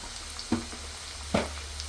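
Onions with green chillies sizzle in a pan after a light sprinkle of salt, a steady frying hiss broken by two soft stirring knocks.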